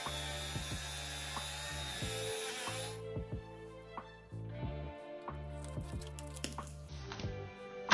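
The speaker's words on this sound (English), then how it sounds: "Immediately after cleaning it with the angle grinder, I painted it so it had no chance to start to rust again." An angle grinder cleaning rusted metal parts of a jointer planer whines at a high steady pitch, cutting out and restarting, with scraping contact sounds and clicks, close by and without speech.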